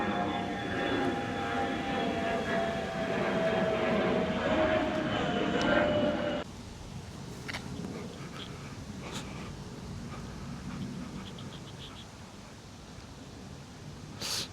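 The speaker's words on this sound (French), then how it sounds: "les avions sont juste au-dessus et c'est tous les 10 minutes" Airplanes passing overhead above gardens in Chiang Mai, Thailand: a steady mid-distance jet drone that cuts off sharply partway through, leaving quieter outdoor ambience with a few small clicks.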